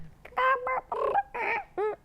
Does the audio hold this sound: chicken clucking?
yes